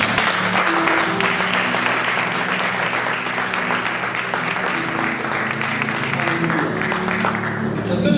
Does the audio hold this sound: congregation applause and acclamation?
yes